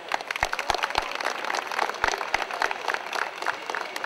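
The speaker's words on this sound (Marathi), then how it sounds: "तर विशेष त्यांच्यासाठी टाळ्या." A crowd at a school batch reunion of the class of 1987 claps for the organisers, a dense, steady patter of many hands with a few sharper nearby claps standing out.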